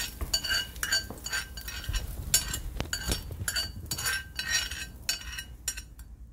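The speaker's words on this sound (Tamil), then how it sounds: "தாளித்தது எல்லாத்தையும் இதில் சேர்த்து நம்ம நல்லா கலந்து விட்டுக்கலாம்." A spoon mixing tempering into curd rice in a dish, with repeated close metallic clinks and scrapes against the bowl in an irregular rhythm, and no speech.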